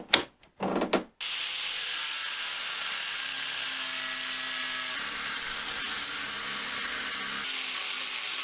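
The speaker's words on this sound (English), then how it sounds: "So I reverted to a steel edge guide and an abrasive disc in the angle grinder." Angle grinder fitted with an abrasive disc cutting stainless steel sheet along a steel edge guide for a fire pit panel, a steady loud high-pitched whine after a few brief starting bursts.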